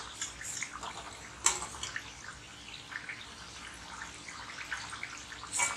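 Colocasia vadai fry in hot oil with a steady, faint hiss and crackle, broken by a few sharper sputters and pops, with no talking.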